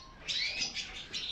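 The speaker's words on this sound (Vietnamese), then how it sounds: "Chim thì đây. Chim thì nhiều lắm mọi người." Canaries in a bird shop give bright, high chirps and short warbling trills in several quick bursts, close and clear over a faint background, without talk.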